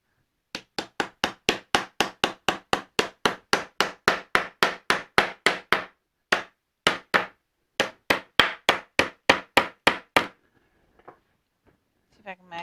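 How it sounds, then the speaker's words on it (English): A small hammer taps a wooden laundry sign about thirty times in a steady, even rhythm, loud and close. There is a short pause midway, then a second run of blows before it stops. "Trying to look to see if I have a little hammer somewhere because this isn't working very good."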